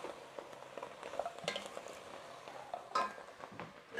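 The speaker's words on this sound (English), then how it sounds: "let me just give this a little bit of a stir" Jambalaya stew stirred in a pot, a spoon scraping and clinking against the pot over a soft simmering sizzle, with a few sharper knocks, fairly quiet and close.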